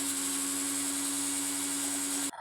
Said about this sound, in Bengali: তাই মিক্সিতে এখন বেটে নিলাম